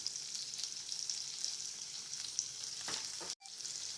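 Curry leaves and raw potatoes sizzle steadily in a pan for sabudana khichdi, a continuous close crackling hiss with a brief dip near the end.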